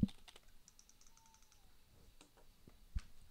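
Soft keystrokes tap on a computer keyboard, a quick, light run of clicks up close, then a few scattered presses and a louder thump near the end, all quiet.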